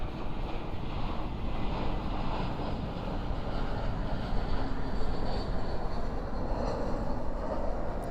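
An airliner touching down at night at Dallas/Fort Worth International Airport, spoilers up and thrust reversers out in a crosswind, makes a steady broad distant roar with wind buffeting on the microphone.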